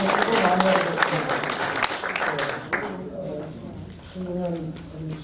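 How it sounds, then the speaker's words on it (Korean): A burst of clapping and applause from a group at a church association's general assembly fades out, followed by a person talking. "박수로 좀 이렇게 좀 받아주시면 안 될까요?"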